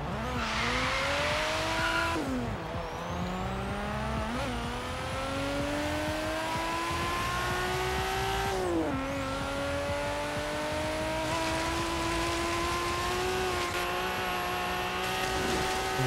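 A Nissan Skyline R31 GTSR in Forza Horizon 3 revs loudly and climbs through the gears, its engine note rising and dropping with each shift, with tire squeal between pulls.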